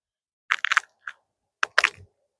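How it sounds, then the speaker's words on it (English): A tough, overgrown okra pod squeezed right beside the microphone gives two short bursts of close, crisp crunching and crackling with a brief pause between them. "I just squished it to see if you could hear, like if you can hear it starting to crunch like that, it's too tough for me"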